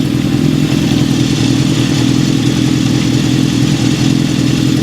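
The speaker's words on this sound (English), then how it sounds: "Idling right at 1300." A 1972 Honda CB750 Four engine idles steadily at about 1300 rpm after a head replacement, a loud, close, even mechanical throb with light clatter and no voices.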